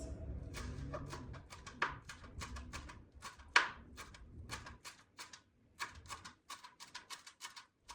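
A knife chopping coriander stalks on a cutting board, a rapid series of crisp close taps with a louder thud midway, then slower, sparser cuts, with low background rumble early on.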